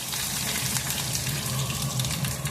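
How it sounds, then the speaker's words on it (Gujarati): Mustard seeds, cumin, asafoetida and curry leaves sizzle in hot oil, a dense close continuous crackle with faint popping and no speech, for a fresh green corn chevdo. "તેલ ગરમ થઈ જાય એટલે તેમાં અડધી ચમચી રાઈ, અડધી ચમચી જીરું, અડધી ચમચી હિંગ ઉમેરીશું અને મીઠા લીમડાના પાન ઉમેરીશું"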